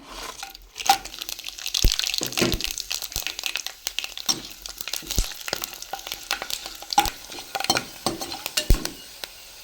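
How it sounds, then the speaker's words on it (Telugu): Whole spices for biryani fry in oil already used to fry onions, giving a soft sizzle beneath frequent sharp metallic clinks and scrapes of a utensil stirring against the pot. "ఈ ఆయిల్లోనే మసాలాలు కూడా వేసేద్దాం"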